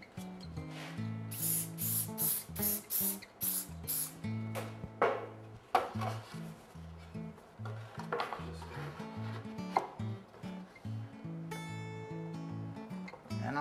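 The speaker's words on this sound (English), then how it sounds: "I'll spray the back of this piece" A spray bottle misting the back of a wood crown molding piece before gluing, heard as about eight short, regular bursts in the first few seconds, with music playing loudly throughout.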